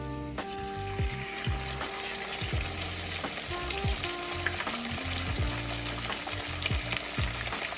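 Fish deep frying in hot beef tallow, a steady dense sizzle and bubbling crackle running throughout at close range, with occasional utensil clinks and scrapes on top.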